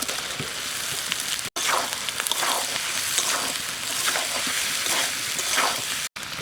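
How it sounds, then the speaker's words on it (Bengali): Fried potatoes tumble into a pan of spiced masala for Bengali aloo'r dum, bringing a steady close sizzle with scattered crackles and soft scraping, broken by two brief silent gaps. "মশলা কষানো হয়ে গেছে, এখন আলু ভাজাটা দিয়ে দেবো।"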